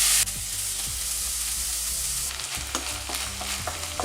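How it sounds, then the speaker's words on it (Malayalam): Chicken fries in a hot pan with garam masala and pepper as momo filling, a steady loud sizzle with repeated scraping stirs that grow busier toward the end, close up and without talk. "ഇതിൽ നന്നായിട്ടൊന്ന് ചൂടാക്കിയതിന് ശേഷം ഈ ചിക്കനും കൂടി ഇതിലേക്ക് ഇട്ട് കൊടുക്കാം"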